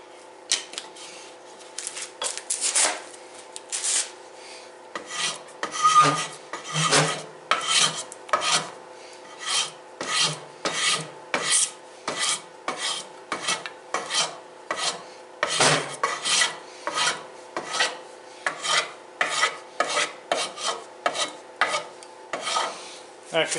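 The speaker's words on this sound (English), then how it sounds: "use a sander or a rasp and turn this a little bit to get yourself a nice fit" Wood rasp filing a wooden piece indoors, a rough rhythmic scraping of repeated back-and-forth strokes, close and fairly loud, running steadily with brief pauses and no talking.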